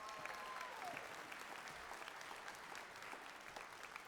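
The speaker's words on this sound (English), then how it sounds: "Give them a round of applause." An audience at a music jamboree applauds a group of young performers, sustained, even clapping from a crowd throughout, heard from some distance and fairly quiet.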